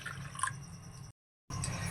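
Water poured from a mug into a bowl of milk for puri dough, a close, steady splashing and trickling that stops briefly, then resumes, with no one talking.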